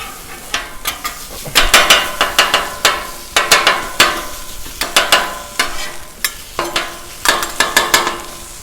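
Food with serrano and jalapeno peppers cooks in a skillet on a hot Blackstone griddle, with a loud, close, continuous sizzle broken by repeated rhythmic scraping and stirring knocks of a utensil.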